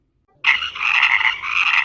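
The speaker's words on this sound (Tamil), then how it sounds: "இந்த தவளைகள் தொல்லை தாங்க முடியல." Frogs croak loudly and continuously in a dense, buzzing chorus that begins abruptly after a short silence, close and without any talk.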